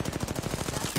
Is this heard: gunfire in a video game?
yes